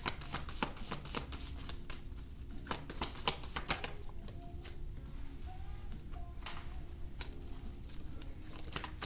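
Tarot cards are shuffled repeatedly in quick riffling bursts, with soft taps and rustles between them, close and fairly quiet.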